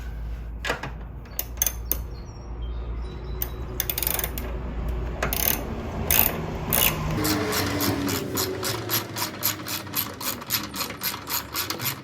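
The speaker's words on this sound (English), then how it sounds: "Undo the bolts." Ratchet wrench loosening bolts on the washer fluid tank of a 2016 Nissan Rogue: scattered clicks and scrapes, then a rapid, regular run of ratcheting clicks close up.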